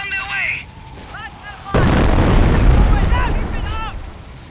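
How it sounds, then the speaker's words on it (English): Incendiary artillery barrage in the video game Company of Heroes: after a short voice, a sudden heavy blast gives way to a sustained rumbling roar of impacts with scattered whistles, loud and close. "Incendiary rounds on their way!"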